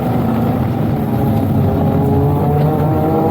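Clubmans saloon race cars, a Mark 1 Golf among them, crawl around a circuit on a warm-up lap, their engines a steady, loud droning rumble with no pause throughout.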